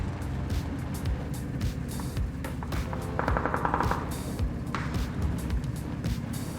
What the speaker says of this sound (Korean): 어 여기 총소리